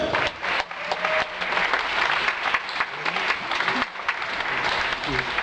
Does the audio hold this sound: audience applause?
yes